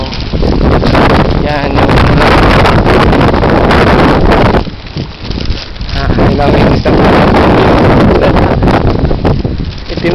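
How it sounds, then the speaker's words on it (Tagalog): Strong wind buffets the microphone almost nonstop, a loud roaring rumble that eases briefly midway before surging back, with people talking underneath it outdoors in Taiwan. "Lakas pa ng hangin."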